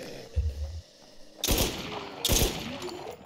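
Gunfire in the Infest NewZ survivor game: two sharp bursts of shots, each loud and ringing briefly, with a low thud just before them and no voices.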